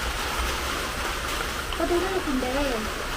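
Monsoon rain falls steadily around a Kerala home as an even, rushing hiss under voices talking nearby.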